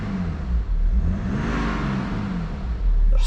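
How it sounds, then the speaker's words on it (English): A BMW F31 335d M Sport Touring diesel engine revs in a smooth, steady rise and fall, loud and close, with no one speaking. "So give it a little rev."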